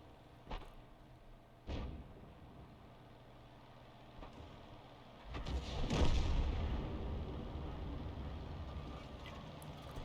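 A GW Panther self-propelled gun fires its cannon in a tank video game, with sharp booming shots followed by a heavy rumbling blast and engine drone, loud and close, with no talk.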